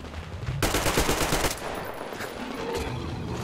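Gunfire in the post-apocalyptic shooter Metro: Exodus, aimed at a monster: a loud, rapid burst of shots lasting about a second, followed by scattered quieter reports and rumble.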